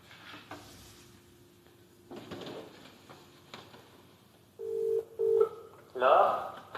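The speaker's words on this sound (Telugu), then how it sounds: "సో కాల్ చేద్దాం స్టూడెంట్కి." A telephone call is dialled, and a short run of bright keypad tones beeps in quick succession near the end while voices talk quietly in the background.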